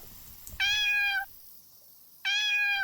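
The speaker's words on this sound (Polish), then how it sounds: "Kot!" Two separate meows from a cat in a video game, each a clear drawn-out call about half a second long, separated by a short quiet pause, with no talk over them.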